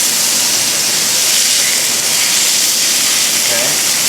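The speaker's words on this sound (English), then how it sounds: "So try to flip your salmon over." Salmon fillets sizzle in a hot pan after being flipped over, giving a loud, steady, broadband hiss that continues without a break and with no voices over it.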